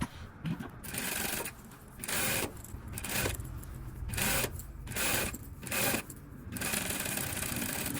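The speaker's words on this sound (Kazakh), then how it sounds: "Осылай обстрочка бердік міне." Sewing machine running in bursts while overlocking the seams of a maternity and nursing garment, several start-stop runs of stitching at close range with brief pauses between them.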